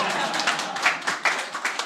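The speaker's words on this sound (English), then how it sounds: "So let's give her another round of applause." A small audience claps at a physics workshop's whiteboard session, a short burst of light, uneven handclaps close by, with no talk over it.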